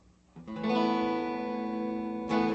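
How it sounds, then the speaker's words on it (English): A single clean electric guitar note or chord on the front single-coil pickup rings out, bright and undistorted, sustaining for about two seconds before a fresh pluck at the end. "That's the front single coil pickup of my guitar."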